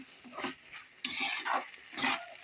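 Vegetable curry masala is stirred in a pot, with rhythmic spoon scrapes and soft sizzling bursts repeating about every half second, close and fairly quiet, with no voices.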